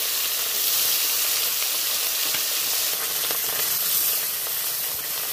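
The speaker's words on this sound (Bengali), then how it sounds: "তেল তো গরমই আছে। মাছগুলো আমি দিয়ে দিচ্ছি।" Fish fries in hot oil in a wok with a loud, dense, continuous sizzle and hiss, close and steady throughout, with faint crackle and no speech.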